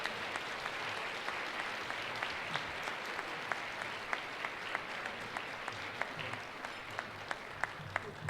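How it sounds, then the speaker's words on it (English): An audience at an Emmy awards ceremony breaks into applause, a quiet, steady patter of many hands clapping with a few individual claps popping out sharply at regular intervals, heard from some distance without talk. "Give them a warm round of applause."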